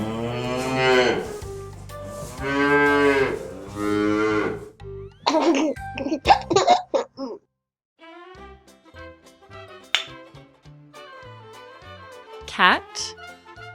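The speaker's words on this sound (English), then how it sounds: "Cow." Cow mooing in a farm animal sequence, several long, loud lowing calls back to back, followed by quieter background music with a brief higher animal call.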